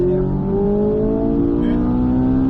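A car accelerates out of a corner on a driving track, its engine rising steadily in pitch with a loud, close drone and rising harmonics.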